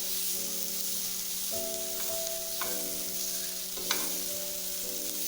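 Red capsicum being stirred in a frying pan while cooking white sauce pasta, a soft continuous sizzle with a few light scraping strokes of a spoon, close and moderately quiet.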